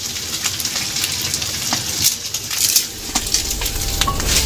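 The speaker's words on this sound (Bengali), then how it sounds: "এবং হালকা সিদ্ধ করে রাখা একটা গাজর গাজরটাকে আমি এখানে অ্যাড করে দিচ্ছি" Finely chopped, lightly boiled carrot is tipped into a pan of frying egg, setting off a continuous close crackling sizzle broken by light clicks and scrapes of stirring, with no voices.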